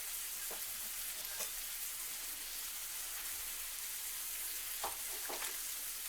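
Butter sizzling and frying in a hot pan for lemon garlic shrimp with asparagus pasta, a loud, steady close-up crackle with a few sharper pops and spits, no talk.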